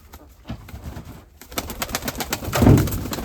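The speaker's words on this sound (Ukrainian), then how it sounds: "Так, оце голубок." A pigeon in a loft of black white-tailed and red-pied Mykolaiv pigeons coos close by. Soft rhythmic calls repeat and swell into a louder, fuller coo near the end.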